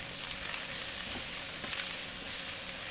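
Carrots and other vegetables sautéing for pancit bihon, a dense, even sizzle and hiss close up, continuous and loud with faint stirring textures and no voices.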